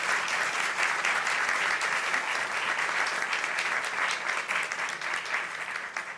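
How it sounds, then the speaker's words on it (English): Sustained applause from an audience at a University of Texas System press conference with Governor Greg Abbott, honouring Senator Sarah Eckhart and Representative Ann Johnson; dense, even clapping throughout, fairly loud and steady with no voices. "Let's give them a round of applause for being here"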